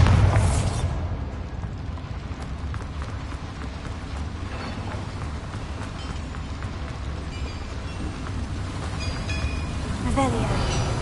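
Bombarda explosion spell in Hogwarts Legacy: a loud blast at the start trailing into a long rumbling roar that swells again near the end.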